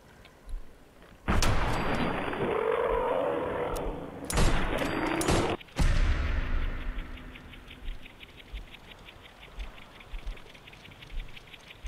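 Gunfire in Fallout 4 erupts in loud sustained bursts against a harassing mole rat, with sharp breaks between volleys and quieter scattered shots afterward.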